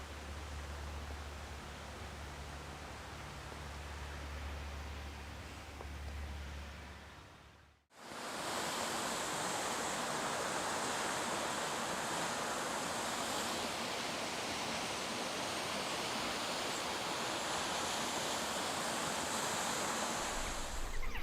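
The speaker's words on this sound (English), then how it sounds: "This is the beck that flows along and falls down 40 feet down Aysgill Force to the pool below." Aysgill Force is a 40-foot waterfall on a beck in Wensleydale. Its steady, loud roar of rushing, falling water fills the whole clip, softer at first, then breaking into a fuller, closer roar after a brief cut. Nobody speaks.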